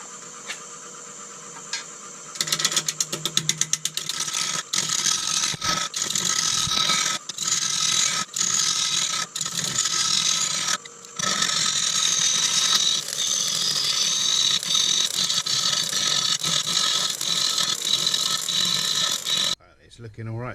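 Yew wood spinning on a lathe at 500 RPM and cut with a carbide tool, a loud, bright, close scraping rasp that starts abruptly and runs with brief breaks and stutters, then cuts off near the end.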